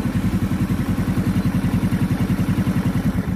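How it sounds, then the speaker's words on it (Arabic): A SANYA motorbike engine idles with a steady, rapid low putter, close and loud, its pulses holding an even rhythm throughout. "كتسمع لارانتي ديال الموتور كتزاد وكتنقص"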